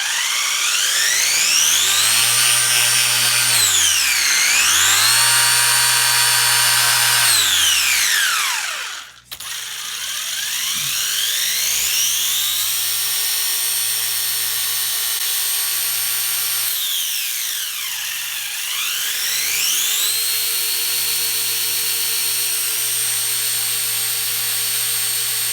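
Upgraded 5700KV brushless motor in a WLtoys A979-B RC car screaming through repeated high-speed revs, with long sustained whines rising and falling in pitch, loud and close with a brief dropout partway.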